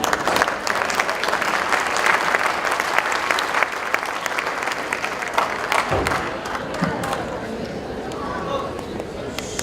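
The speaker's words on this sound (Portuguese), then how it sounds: "Con nosotros recibamos con un fuerte aplauso al doctor César Santos." Audience applause at a medical and public health conference, welcoming Dr. César Santos to the stage: dense, steady clapping from a large crowd that thins toward the end, with some murmuring and voices under it.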